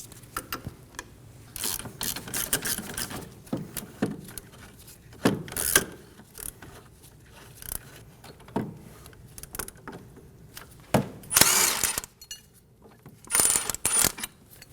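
A ratchet with a 22mm socket clicks in repeated, uneven bursts while breaking a nut free on the steering knuckle of a 2008–2015 Scion xB, with sharp metallic ticks and clanks close by.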